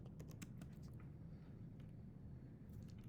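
Quiet, rapid clicking of keys on a computer keyboard as a search phrase is entered, faint and steady over a low background hum.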